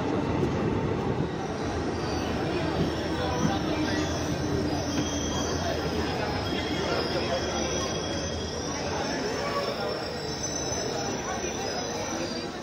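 Steady rumbling roar of the Nandigram Express passenger train moving along the rails, with high metallic squealing from the wheels throughout.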